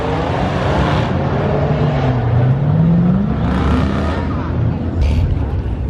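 A cammed Corvette C7 pulls away with a choppy, rumbling exhaust that rises in pitch as it accelerates, heard over crowd chatter and nearby voices at a car meet.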